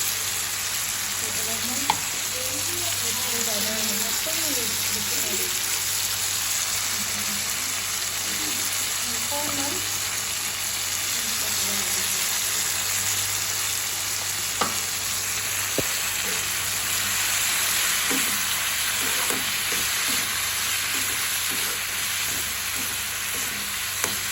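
Garam masala sizzles steadily in a hot oiled pan while a spoon stirs and scrapes it, close and continuous, with a voice speaking faintly at the start.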